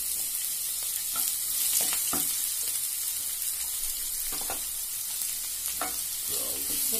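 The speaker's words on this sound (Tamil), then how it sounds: "நல்லா பொரிஞ்சிருச்சு, அதில் வெங்காயம் சேர்த்துக்கலாம்." Onions, green chilies and coriander frying in hot oil in a kuzhi paniyaram pan, a steady close sizzle with occasional sharper crackles and stirring clatters, no talking.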